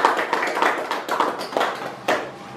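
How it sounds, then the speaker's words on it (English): A group of people clap their hands together in a short burst of applause, close and fairly loud, with uneven overlapping claps lasting a couple of seconds. "Let's clap for them."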